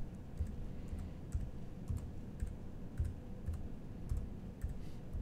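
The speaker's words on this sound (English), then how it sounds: "type the switch's IP into the address bar" Typing on a computer keyboard while entering an IP address for an AT-8000S network switch: a steady run of quick, light key clicks at close range, with no voices.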